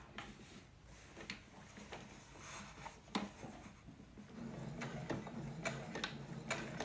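A home sewing machine stitching fabric for an aromatherapy bag, soft ticking and clicking at first, then a steady continuous mechanical whir in the latter half as the seam is run, fairly quiet and close.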